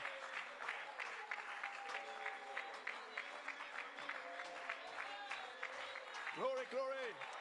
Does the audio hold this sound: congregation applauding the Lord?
yes